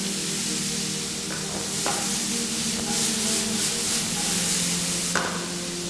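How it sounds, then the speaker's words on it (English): Onion sizzling and frying in a hot pan for a mushroom bolognaise, a steady loud hiss with occasional sharp stirring clicks and scrapes of a utensil against the pan. "You want to hear that nice sizzle from your onion."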